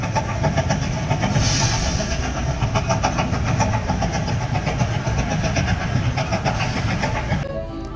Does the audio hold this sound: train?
yes